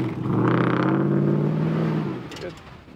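A Toyota 4Runner grinds over rocks, its engine giving a loud, steady low drone for about two seconds before fading, with faint sounds of people nearby at the end.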